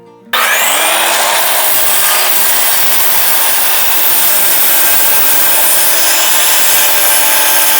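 Large handsaw rasping steadily through timber, a loud continuous back-and-forth cut running alone without pause after a brief quiet start.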